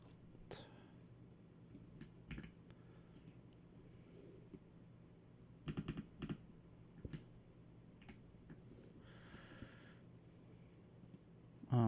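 Quiet, sparse typing on a computer keyboard, with scattered single key clicks and a few quick short flurries of keystrokes against a low background hum.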